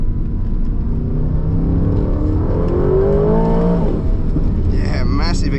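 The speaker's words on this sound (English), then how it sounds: "And awesome sound too, like it reminds me of a V8 supercar" A 2025 Aston Martin Vantage V8 sports car accelerating hard from inside the cabin, its engine note climbing steadily through the gears with a loud, continuous rising howl and a brief shift near the end.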